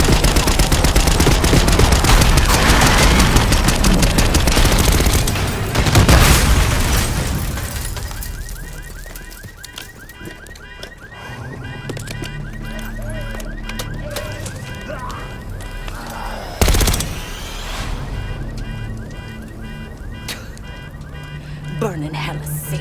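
Call of Duty Black Ops gunfire opens with loud, dense automatic bursts. It thins into quieter scattered shots with a sharp burst later on, and voices are heard over the action.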